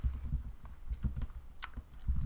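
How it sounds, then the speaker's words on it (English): Typing on a computer keyboard comes as a quick, uneven run of soft close clicks and taps, with no talking over them. "I'm going to go write these out because this is fun, typing as we go"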